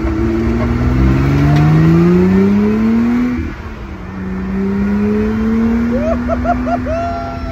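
A Lotus 3-Eleven sports car engine revs up loudly and close, its pitch climbing steadily through long pulls, dipping briefly at a shift, then rising again with a few quick blips near the end.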